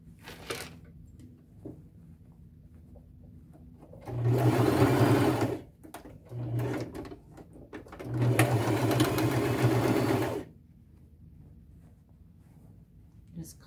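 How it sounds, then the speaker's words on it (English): A sewing machine stitches the bottom seam of a fabric bag in short, close bursts: one run, a brief stab, then a longer steady whirr, with quiet pauses between. "So then I just stick the bottom back in my sewing machine, and I'm lining it up with the edge of my presser foot"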